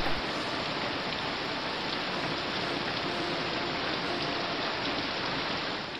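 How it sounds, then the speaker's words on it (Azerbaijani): Rain used as a sound effect in a narrated audio story, a steady hissing downpour with dense patter that holds at an even level throughout, without narration over it. "Bundan sonra yağış başladı. Yağan yağış yanan meşələri söndürdü."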